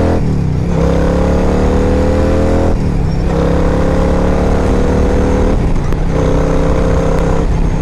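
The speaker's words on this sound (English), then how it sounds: "These Vance and Hines pipes really unleash the good sound of this bike" A 2005 Yamaha V Star 1100 motorcycle with Vance and Hines pipes accelerates hard through several gears, loud rising engine roar broken by three brief shift dips, close and continuous with no voices.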